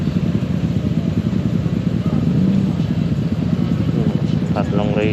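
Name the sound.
Raider motorcycles racing on a boulevard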